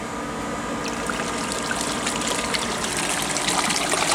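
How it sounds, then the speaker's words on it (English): Aquarium overflow box installed without its white tubes, running noisily: continuous close splashing and trickling water, with bubbly gurgles and dribbles over a steady rush and no talk. "Run it like this to show you that this is the noisiest way to install your overflow."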